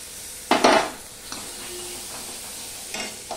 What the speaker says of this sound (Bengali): দেখো বেসনটা ভাজা হয়েছে, কালারটাও চেঞ্জ হয়েছে